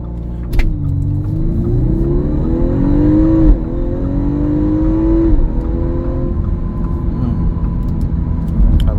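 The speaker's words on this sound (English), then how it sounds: "Let's pull up the turbo, let it hit again." Audi A5 Sportback S Line turbo engine accelerating in manual mode with dynamic setting, a loud interior drone that rises steadily in pitch through gears, with a brief dip at each shift.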